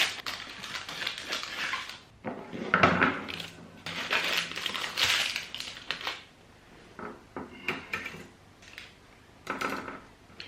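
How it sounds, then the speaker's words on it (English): A knife cuts warm flapjack into squares in a metal tray, making scattered scrapes, taps and clinks against the tray, fairly close and quiet, with no voices. "While it's warm, you want to cut it up into your little squares"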